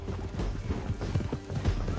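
Horse hooves clip-clopping in a fast rhythmic gallop in a PS4 Western riding game, close and steady with a faint whinny, no talk over it.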